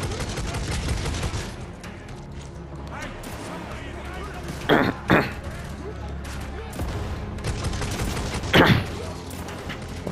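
Exploding incendiary rounds fire in Necromunda Hired Gun amid dense gunfire, with two sharp, loud blast bursts standing out from the din, and someone talking over the action.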